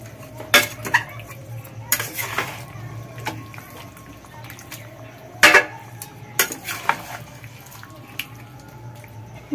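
Chicken rosla is stirred in a metal pan, with sharp spoon scrapes and clinks against the sides at irregular moments over a low, steady simmering hum and faint watery sounds, close and moderately loud, with no voices.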